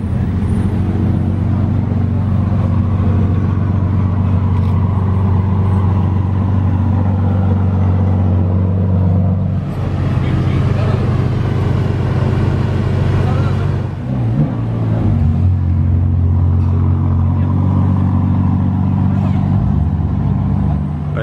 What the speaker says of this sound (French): Elle fait un de ces bruits, cette GT3 RS couleur.